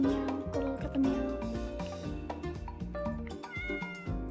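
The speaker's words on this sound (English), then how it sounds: "The meow, the meow. Gotta look at the meow." A cartoonish cat in the Roblox video game meows several times in quick succession over steady game music, heard clearly in the foreground.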